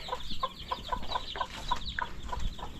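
Mother hens on a farm clucking at feeding time, a busy run of short repeated clucks from several birds close by over faint background noise.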